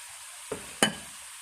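Carrots and potatoes dropped into a hot pan for pork giniling, with two brief sizzling bursts, a short one then a louder one, fading over a quiet background.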